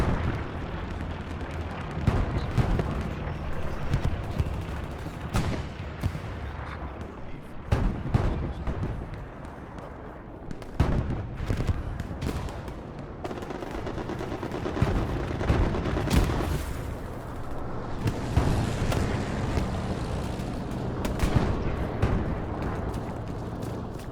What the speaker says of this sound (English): Close quarter MG destroying the enemy, denying them the ability to get out